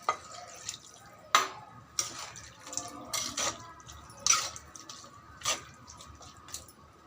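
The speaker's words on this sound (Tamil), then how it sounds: "தண்ணி 1 கிளாஸ் சேர்த்துக்கலாம்." About a glass of water goes into a cooking pot on the stove as a series of irregular splashes and sloshes, close and moderately loud, over a quiet background.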